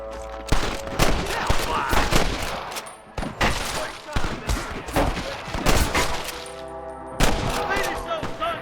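Gunshots ring out in a Red Dead Redemption shootout: repeated sharp cracks and rapid bursts, some near and some farther off, with brief lulls between volleys and voices shouting in the background.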